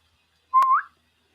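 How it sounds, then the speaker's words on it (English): A single clear whistle rising in pitch, sharp and close, with silence before and after. "So you guys can listen to me try and contain my parrot."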